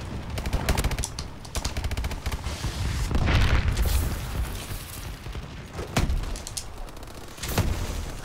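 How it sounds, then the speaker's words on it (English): Laser gun fire in Call of Duty Advanced Warfare, loud rapid bursts of shots mixed with booms and blasts, dense and continuous, with no clear talk. "what is with the laser gun or whatever it is?"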